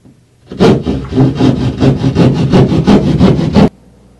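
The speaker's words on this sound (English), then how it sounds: "we'll use a drywall saw or a sawzall to cut the drywall out" A hand drywall saw cuts out a section of drywall for a door installation, making about a dozen loud, close back-and-forth rasping strokes in quick, even rhythm before stopping.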